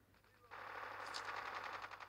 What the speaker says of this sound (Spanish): Escucho disparos, pero nada más.